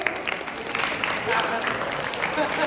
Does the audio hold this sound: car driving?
no